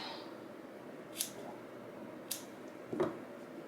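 Scissors give a yarn pom pom a trim, with three or four crisp snips spaced about a second apart over a faint steady background hiss, close and fairly quiet, with no one speaking.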